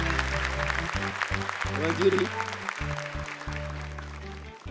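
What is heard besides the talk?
audience applause for Syifa and Kaila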